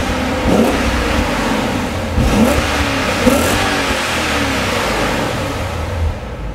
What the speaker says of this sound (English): Under the hood of the M5, you're going to find BMW's 5-liter V8 engine.